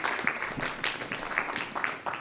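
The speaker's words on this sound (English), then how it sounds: "A round of applause." A small audience claps for a couple of seconds after a medical research presentation. The clapping is dense but fairly faint and distant.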